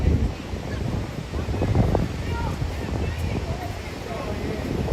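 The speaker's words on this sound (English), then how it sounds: "Maybe because it's windy." Gusty wind buffets the microphone on a New York City street, a low rumbling roar that swells and eases under a voice talking nearby.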